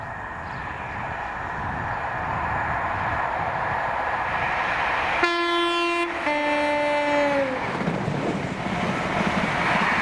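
ScotRail HST service from Aberdeen to Edinburgh with power cars 43130 and 43137, passing Monifeith: a steady rumble of rail traffic with wind buffeting, then a loud two-tone horn blast lasting about two seconds, followed by a second falling horn note.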